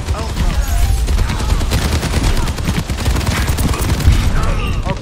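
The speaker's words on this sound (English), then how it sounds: "Rocket barrage incoming." Dense, continuous barrage of explosions from an Overwatch 2 rocket barrage ultimate in a team fight, loud and sustained with rapid overlapping blasts, a voice speaking over the battle.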